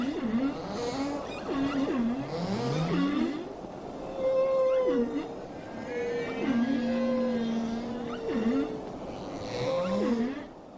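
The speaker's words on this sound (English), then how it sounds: "For most of the year, humpback whales are silent. But as the breeding season begins, the southern oceans are filled with exquisite music." Humpback whale song in the southern ocean during breeding season: a slow series of moaning, rising and falling tonal calls and whoops, repeated with pauses, clear and resonant with a low underwater hiss beneath.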